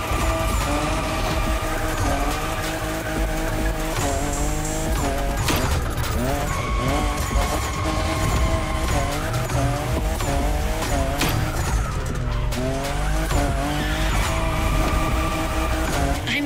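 In The Crew Motorfest, a car drifting screeches with loud, wavering tire squeals over a roaring engine. The sound is dense and nonstop, and the squeals rise and bend as the car slides through repeated turns.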